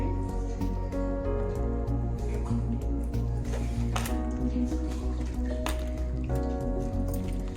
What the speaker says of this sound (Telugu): ఇలా దగ్గరగా తీసేసుకొని ఇలా కొంచెం చేతితోటి ప్రెస్ చేస్తే వాటర్ వచ్చేస్తుంది కిందకి